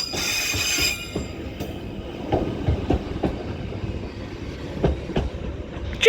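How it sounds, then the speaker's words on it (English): A Merseyrail Class 777 electric unit moves at Chester station. It gives a rolling rumble with repeated wheel clicks and a brief high squeal at the start, heard close with no talk. "this is our final train of the westbound end of the station"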